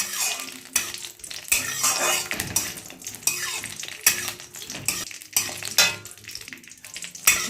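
Raisins fry in hot ghee in a pan, giving a steady sizzle broken up by repeated scrapes and clinks of a spoon stirring against the metal, close and fairly loud throughout, with no voices.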